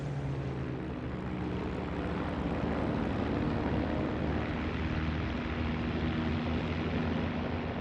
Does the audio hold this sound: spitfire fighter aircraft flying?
yes